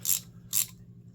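Two quick bursts of clicking from a Herbrand USA Professional Series 3/8-inch ratchet, a compact-head hand tool, each burst short, sharp and close, separated by a brief pause.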